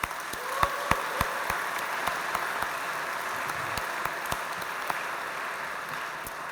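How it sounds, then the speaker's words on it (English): A gala dinner audience applauding together, a steady sustained wash of clapping from many hands in a large room, with a few louder nearby claps standing out. "So a round of applause for you."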